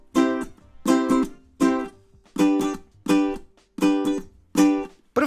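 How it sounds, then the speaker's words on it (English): A Populele 2 Pro smart ukulele is strummed acoustically in a close stereo recording: seven bright, even chord strums with quick decays in a steady rhythm, with no talking over them. "so you'll have kind of an idea of what the ukulele itself sounds like,"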